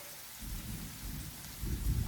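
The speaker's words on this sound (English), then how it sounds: "You can hear the thunder in the background." Thunder rolls low and heavy through a storm, a continuous deep rumble under steady hissing rain, swelling louder at the very end.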